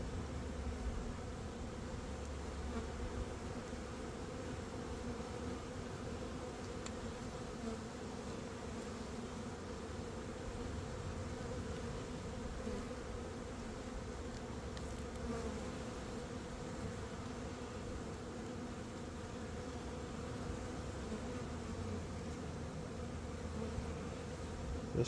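Honey bees drone steadily around an opened hive during an inspection, a continuous close buzzing swarm sound that stays even throughout with no voices.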